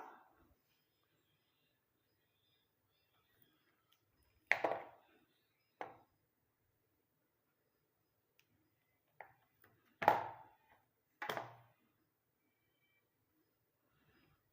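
A block of soap base is cut into pieces, giving a few separate sharp knocks and chops, near and fairly faint, spaced apart with quiet between them.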